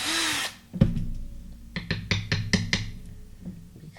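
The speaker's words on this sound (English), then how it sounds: "So I am going to just drill this a little bit more." A small power drill bores into a resin die to make a hole for an eye hook; a brief close whine opens, followed by several sharp knocks and taps.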